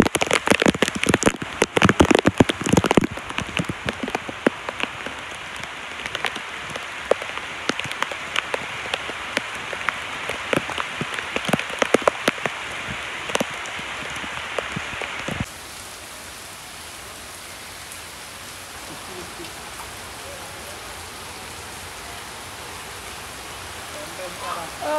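Heavy rain pours steadily in a village, a dense, loud hiss with sharp drop-like crackles for about fifteen seconds before easing into a softer, even wash of rainfall.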